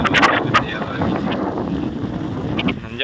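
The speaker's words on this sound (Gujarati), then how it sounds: "હારે પવન મસ્ત આવે ઠંડો ઠંડો જરાક આંચકાનો પવન ફૂલ આવે" Strong, cold, gusty wind blows outdoors, buffeting the microphone with a loud, continuous rumbling roar, while a person speaks over it nearby.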